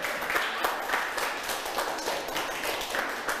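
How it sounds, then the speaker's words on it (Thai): Children in a primary school maths class applaud themselves, a moderate, steady patter of many small hands clapping together that carries on evenly for a few seconds without speech. "ปรบมือให้ตัวเองด้วย"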